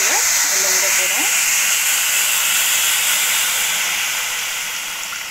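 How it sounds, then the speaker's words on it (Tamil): Tamarind water hitting a hot pan of vegetables sets off a loud, steady hiss of steam and sizzle that slowly fades. "இப்போ வந்து நம்ம புளி கரைசல நல்லா விட போகிறோம்."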